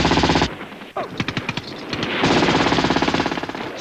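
Automatic weapon fire in a 1983 British Army training film on Soviet encounter tactics, loud rapid bursts of shots with a short gap and sharp single reports between them.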